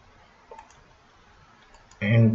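Computer mouse clicking on a desktop, a quiet single click early on and a louder burst of clicks near the end.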